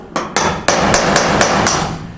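Metal hammer blows on the sheet-metal roof of a 1967-72 Chevy truck during rust repair, seven sharp ringing strikes in a steady rhythm, close and loud with a lingering metallic ring between hits.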